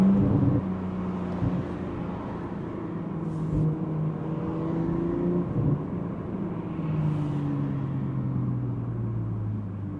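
A BMW G42 M240i with xDrive, an Akrapovic exhaust and a 200-cell downpipe pulls hard, its engine note climbing in rising harmonics through several gear changes as a continuous close rumble with no talking.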